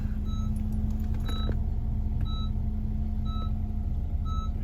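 Dodge Charger Pursuit shifting into reverse, steady engine idle hum underneath as a repeating high electronic reversing beep chimes at regular intervals, close and clear with no talking.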